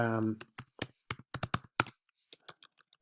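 Keys tapped on a computer keyboard while entering a search term: a burst of distinct clicks in an uneven rhythm, close and moderately loud, with a short stretch of a voice at the start.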